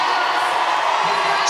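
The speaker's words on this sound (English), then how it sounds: "supported by this vociferous crowd here in Liverpool" A vociferous cricket crowd in Liverpool cheers Zimbabwe in a women's cricket World Cup match, a loud, continuous roar of massed voices that never lets up in the brief moment.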